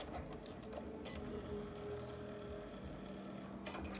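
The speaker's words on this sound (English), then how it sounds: "So it's cutting out my vinyl." A Cricut cutting machine works through a sheet of vinyl, giving a steady, quiet mechanical whir with faint tonal motor hum and a few brief carriage movements, close by with no talking.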